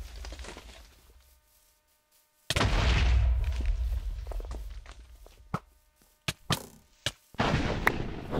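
Gunfire in a survival battle video game: a heavy booming burst followed by several sharp, separate shots, loud and close, with footsteps and quieter gaps between them.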